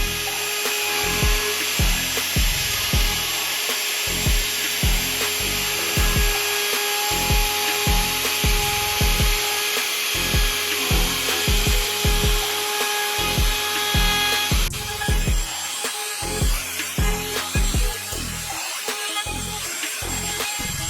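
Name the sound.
wood router cutting edges of a wooden frame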